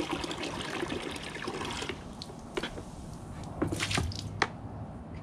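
A freshwater hose flushes mud out of a badly clogged vapor blaster, giving wet squishing, trickling and dripping sounds. Sloppy splats and gurgles come close by throughout.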